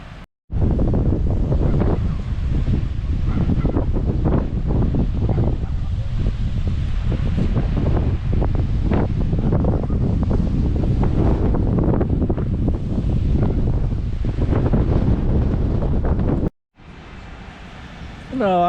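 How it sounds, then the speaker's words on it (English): Strong gusty wind outdoors on a very windy day, roaring loud and continuous into the microphone with broadband buffeting for most of the stretch, then briefly cutting out near the end. "Yeah, it's just a tad bit windy out there today."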